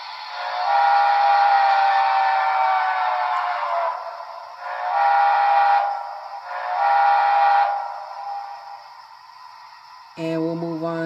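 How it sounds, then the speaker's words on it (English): A Broadway Limited Imports 2-8-2 Heavy Mikado model steam locomotive's toggle whistle hoots high in three blasts, one long and two shorter, followed by a brief lower whistle tone at the end. "F22 is the toggle whistle"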